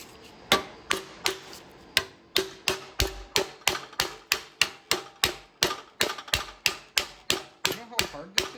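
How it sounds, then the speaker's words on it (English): Steady rhythmic hammer blows ring out on a Studebaker sheet-metal dash panel clamped to a small metalworking bench, about three strikes per second, each a sharp clang with a short decay, close and loud. "I clamp it to my little metalworking bench here, and I'll take the hammer."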